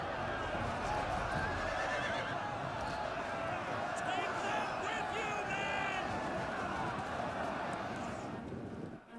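Cavalry militia horses neigh and whinny amid a game battle in Rise of Mordor, with hoofbeats, crowd clamour and a continuous dense din of combat throughout, under a narrating voice.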